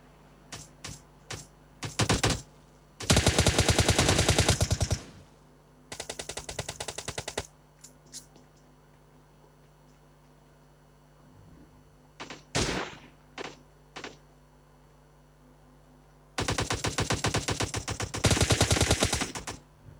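Bursts of automatic gunfire in PUBG on the Erangel map, with several long rapid volleys and shorter scattered shots separated by quiet gaps.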